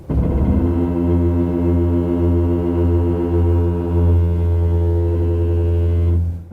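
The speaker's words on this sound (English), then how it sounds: "this car makes a weird groaning sound from its brakes" A Kia EV6 electric car's brakes groaning in slow traffic, a low droning groan with a rich harmonic hum, steady and fairly loud for about six seconds before stopping abruptly.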